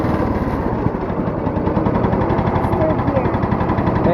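An old riding lawnmower engine idles low with a loud, steady, rapid chugging throb, close by and continuous.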